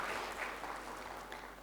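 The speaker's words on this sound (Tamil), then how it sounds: "தெரிஞ்சவங்களுக்கு ஒரு பெரிய கைத்தட்டல் கொடுங்க" Faint, distant audience applause during a Tamil motivational speech, a brief continuous patter of clapping.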